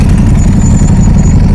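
Ducati Desmosedici motorcycle engine running with a full race exhaust, a loud dense rumble held steady and close for a moment.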